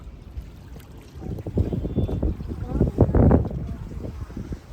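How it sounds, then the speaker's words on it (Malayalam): Rowing boat out on Lake Bled in Slovenia in a cold wind, with steady wind rumble and buffeting over the water and splashy surges that grow loudest midway, close to the microphone. "നല്ല തണുത്ത കാറ്റ് നല്ല സൈലൻ്റ് ആയിട്ടുള്ളത് അങ്ങനെ റോയിങ്ങിൽ ഇങ്ങനെ പോയിക്കൊണ്ടിരിക്കുകയാണ്"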